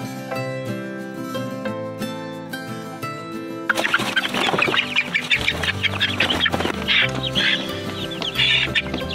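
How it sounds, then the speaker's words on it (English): Chickens clucking in a quarantine pen, heard close over a steady tonal background, growing busier and louder partway through with overlapping bird calls and no talking. "Let's come over here and check out these birds."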